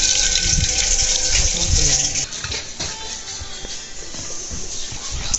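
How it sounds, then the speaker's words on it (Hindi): Water squeezed by hand out of grated cabbage in a village kitchen, a close, splashy stream of liquid dribbling and pattering down steadily, loudest at first and then thinning to wet drips, with no talk over it. "जितना पानी है ना गोभी में सारा पानी निचोड़ना है भाई।"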